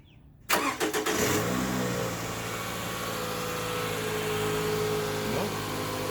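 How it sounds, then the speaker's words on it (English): A Toyota RAV4 engine cranks and catches abruptly, then settles into a steady, loud idle that runs on close by. "Oh no, the car has to be running."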